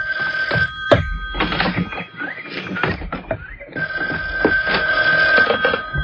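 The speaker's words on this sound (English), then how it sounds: "There's the phone." A telephone bell rings loudly in repeated bursts in an indoor scene, with no one speaking.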